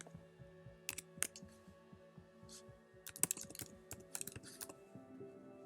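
Scattered clicks and taps of typing on a computer keyboard, faint and irregular, over a steady low electronic hum with a soft pulsing beat.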